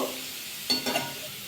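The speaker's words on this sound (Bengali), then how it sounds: "ফুলকপিটা হালকা একটু ভাজা করে নিয়েছি এর মধ্যে আবার কিছু জিনিস অ্যাড করবো" Lightly fried cauliflower stirred in a pan, a couple of quick scraping stir strokes with soft sizzling over a faint steady background, fairly quiet and close.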